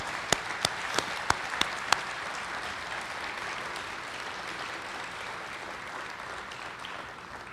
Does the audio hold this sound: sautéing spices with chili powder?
no